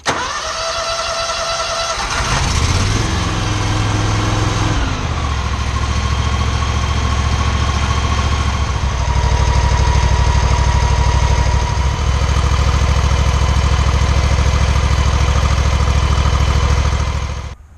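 An Exmark mower engine converted to run on propane cranks and catches, then settles into a steady, loud mid-pitched idle with a constant droning hum.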